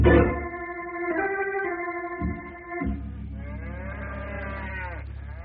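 Several cattle moo loudly and repeatedly in a spooked winter corral, long overlapping bellows close by, one call running into the next with no talk.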